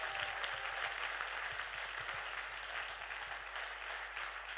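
Church congregation applauding and acclaiming the Lord, a steady wash of clapping from a crowd that holds evenly throughout, fairly distant and moderately loud with no clear voices on top.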